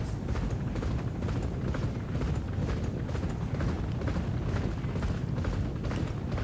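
Racehorses gallop in the Champion Jockey horse-racing video game, a dense, continuous drumming of hooves with a rhythmic, pulsing clatter that stays steady and loud throughout.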